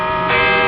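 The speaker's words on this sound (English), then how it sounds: "There. Hear them? Call the city, Miss Stewart." A church bell rings in a short burst, a rich metallic tone with many ringing overtones, struck again partway through so the sound swells louder.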